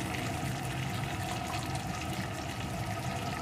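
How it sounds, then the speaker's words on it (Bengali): Warm water poured into a pan of potatoes sautéed with spices for a soybean kofta curry, a steady continuous splashing rush with no pauses and no voices. "এখন এর ভিতরে আমি দিয়ে দেবো পরিমাণ মতো জল।"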